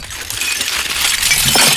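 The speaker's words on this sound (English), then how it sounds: "These are all broken windows." Shards of broken window glass, layered deep in a ghost town site, clink and shift with a dense, close crunching rattle that swells toward the end.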